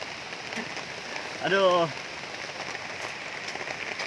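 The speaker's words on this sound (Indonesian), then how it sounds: "sepertinya hujan turun lagi nih" Heavy rain pours steadily on the forest at a camping spot, a dense, continuous hiss close all around, while a voice briefly exclaims midway.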